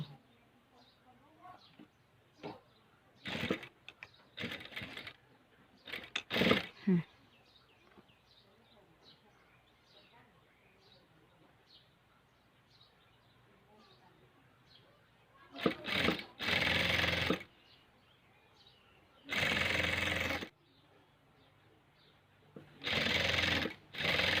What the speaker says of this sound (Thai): ก็เย็บเสร็จเรียบร้อยแล้วค่ะทั้งสี่ฝั่งเลยเนาะ